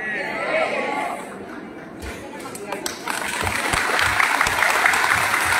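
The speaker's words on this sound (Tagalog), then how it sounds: "Maraming salamat po doon sa pumalakpak" A crowd at a political rally for a mayor in San Leonardo, Nueva Ecija claps, the applause swelling into a broad steady wash in the second half, mixed with chatter and a voice talking over it.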